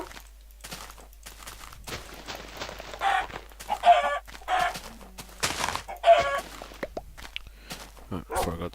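A Minecraft chicken gives several clucks in short bursts spread across the clip, mixed with footsteps and other game sounds, moderately loud and close.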